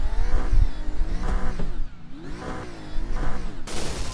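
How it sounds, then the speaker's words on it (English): Race car engine in the iRacing simulator revving repeatedly, rising and falling in pitch through several loud pulls with a brief dip midway, heard close and alone. "I can still hear the car"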